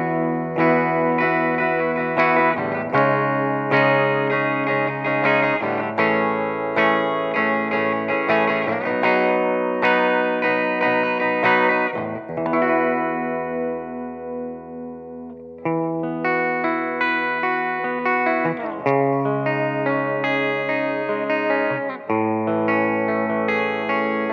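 Kazuki Dragon Series electric guitar played through a Mighty 40 amp with light delay and reverb, sustained chords and melodic lines ringing out continuously and loud with echoing tails, no talking.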